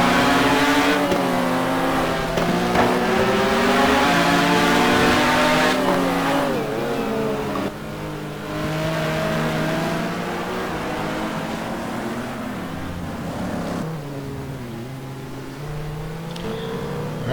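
GT2 race cars at Mont Tremblant accelerating hard out of a corner, loud engines rising in pitch through several gear changes, with more cars following close behind in a continuous racing roar.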